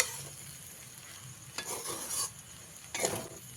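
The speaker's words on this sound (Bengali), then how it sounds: "লেবুর রসটা দিয়ে আবারও খুব ভালো করে মিশিয়ে নিতে হবে" Spoon scraping and stirring through sago pulao in a pan as lemon juice is mixed in, with soft clinks and a faint sizzle, close and intermittent.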